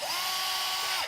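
Power drill driving a screw to remove a sofa bed armrest, a single steady whine held for about a second before stopping, close and clear with no talking.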